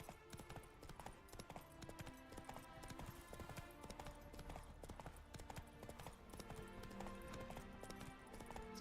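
Roach, Geralt's horse in The Witcher 3, trots along with steady, rhythmic clip-clopping hooves, moderately close, set against a dense bed of game music and ambience.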